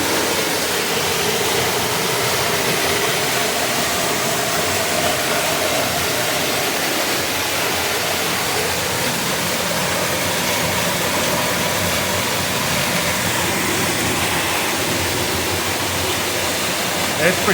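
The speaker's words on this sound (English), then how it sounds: "There's some water trickling there as well." Steady broadband rush of water trickling and falling at a waterfall, continuous and fairly loud throughout, with no distinct events standing out.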